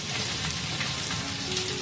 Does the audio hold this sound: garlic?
yes